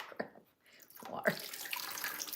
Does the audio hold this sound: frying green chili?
no